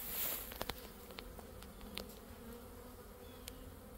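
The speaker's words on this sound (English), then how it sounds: "A swarm. It's my first swarm of the year" A roughly ten-pound honey bee swarm hangs in an outdoor apiary, giving off a soft, steady buzzing with individual bees zipping past now and then, heard faintly from a short distance.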